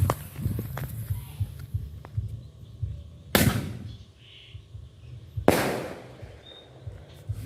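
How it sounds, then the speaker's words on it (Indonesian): Elang mas firecrackers set off outdoors during an evening gathering, two sharp loud blasts a couple of seconds apart, each with a brief crackling tail, over a low rumbling background. "Selanjutnya petasan elang mas."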